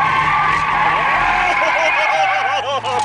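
A Porsche power sliding at a speedway, its tires skidding in a loud, sustained wavering squeal over the engine drone, close by throughout.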